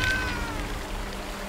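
A cat meows once in the Blacktail video game, a short rising call standing out early over a low steady background hum, then fading into a quieter ambient bed.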